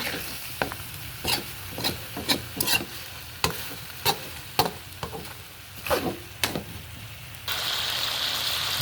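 Native chicken frying in oil with fish sauce, stirred by hand in a pan: a string of sharp scraping stirs over a crackling sizzle, then a sudden loud, steady hiss takes over near the end.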